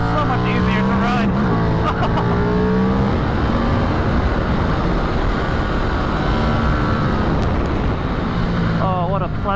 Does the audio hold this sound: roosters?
no